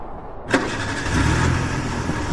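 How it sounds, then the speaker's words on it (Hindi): A car engine cranks and starts with a sharp burst, then settles into a steady mid-pitched running note as the vehicle pulls away on a road near Tawang, loud and close with no talk. "ये कहकर अरविंद वापस गाड़ी की तरफ मुड़ गया और गाड़ी में बैठकर वहां से निकल गया।"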